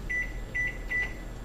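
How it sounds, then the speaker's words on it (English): A microwave oven runs with a steady low hum while heating butter and cream cheese for cookie dough, and a faint electronic beep tone repeats three times above the hum. "we're going to go ahead and go microwave it"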